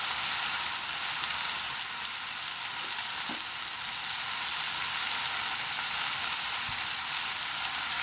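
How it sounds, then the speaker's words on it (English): Minced meat for a Bolognese sauce frying in a pan, a loud, continuous close sizzle holding steady throughout with a couple of faint knocks. "At this stage, I'm going to add in my mince. So in it goes."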